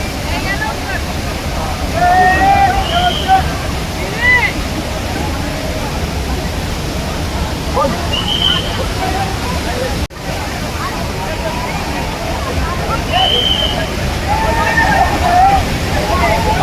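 Raoutwadi waterfall roars steadily and loudly throughout, with distant voices and occasional calls heard faintly over the rushing water.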